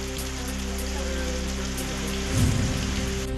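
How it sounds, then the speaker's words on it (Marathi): Heavy unseasonal rain pours steadily in the Amboli area of Sawantwadi, Sindhudurg district, a dense, continuous hiss of drops hitting surfaces, with a slightly louder burst near the end. "सावंतवाडीतील आंबोली भागात मुसळधार पाऊस."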